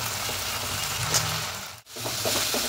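Onion, tomato and ginger-garlic paste sautéing in a pan for a duck egg curry, a steady close sizzle with occasional stirring scrapes and one brief dip where the frying noise drops away.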